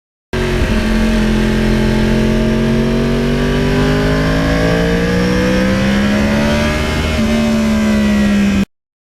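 A 2020 Yamaha R1 crossplane motorcycle is ridden on the road, its engine loud and close with a strong droning note that climbs steadily as it accelerates, then shifts and pulls on before cutting off abruptly.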